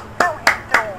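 Four sharp, evenly spaced claps ring out for a presenter, each a crisp slap with a short bright ring, close and alone with no talking.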